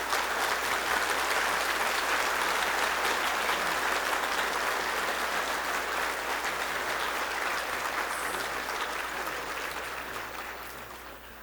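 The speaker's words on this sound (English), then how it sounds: "let's welcome by standing, give a big applause," An audience stands and applauds to welcome a speaker at a Brahma Kumaris talk in Silicon Valley, a steady dense wash of clapping that holds for about ten seconds before starting to fade, with no voices over it.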